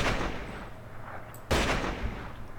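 Gunfire in The Godfather II video game: a loud sharp shot bursts out at mid-clip over constant game background noise, and a quieter shot may sound earlier.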